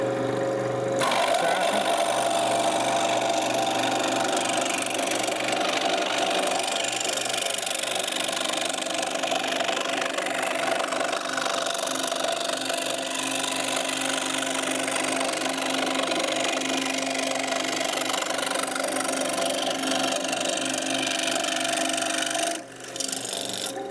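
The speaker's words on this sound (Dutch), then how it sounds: "Als we een wieltje willen uitzagen, dan zagen we niet op het lijntje, maar we zagen buiten het lijntje." A small wooden wheel being sawn out along a traced circle gives a continuous, steady buzzing rasp, close and loud, running almost unbroken for over twenty seconds before a brief dip near the end.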